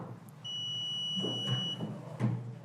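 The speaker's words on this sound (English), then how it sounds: "That little beeping sound when we have electrical continuity between these 2 points." A steady high electronic beep from a multimeter sounds for about a second and a half, close and clear, with faint tapping around it.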